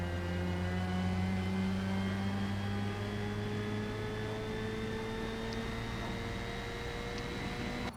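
A Formula Mazda race car in Forza Motorsport at Indianapolis holds a steady, loud engine drone with sustained harmonic tones that rise slowly, continuous and close, with no talk.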